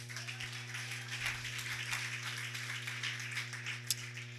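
Worshippers in a church clap together in praise of the Lord, a dense, even patter that carries on without pause over a steady low hum.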